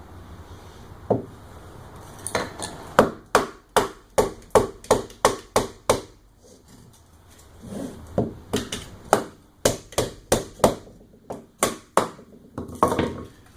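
Batoning wood with an SRK knife: a long run of sharp, loud wooden knocks as the spine is struck, steady bursts separated by a brief lull, close and dry with no talking.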